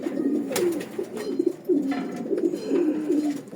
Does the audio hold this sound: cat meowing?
no